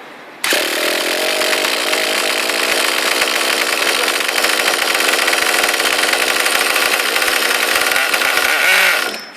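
A nitro engine on an HPI Savage 5.9 RC car starts up and keeps running with a loud, continuous high-pitched buzz, like a small chainsaw, for about nine seconds before cutting off.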